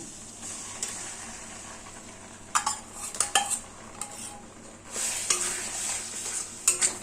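A spoon scrapes and clinks against a pan while mustard, poppy seed and green chili paste masala sautés over a low gas flame for a Bengali parshe fish curry, with intermittent metallic knocks over a soft background sizzle.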